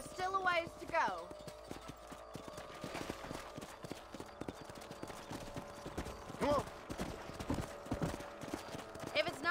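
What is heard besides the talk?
horses' hooves clip-clopping while riding, from the video game Red Dead Redemption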